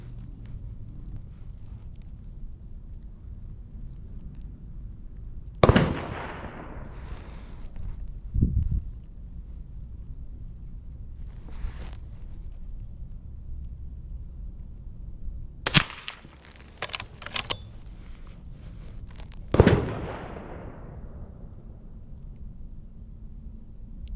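A Marlin 39A rifle fires at a bullseye target outdoors, giving three sharp, loud cracks spaced several seconds apart over a quiet background with faint wind.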